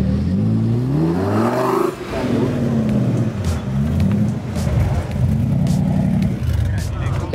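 Car engines rev and roar as vehicles drive past close by at the Monza Motor Show, one pitch sweeping up then dropping away, followed by a steady rumble of more traffic.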